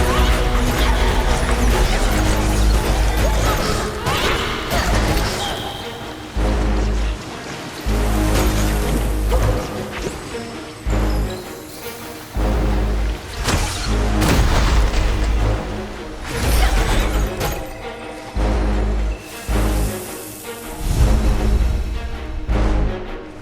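Bomb blasts and heavy crashing impacts in Kena: Bridge of Spirits during a boss fight against the Corrupt Rot God, loud repeated booms in bursts over a dense game soundtrack, with no talking.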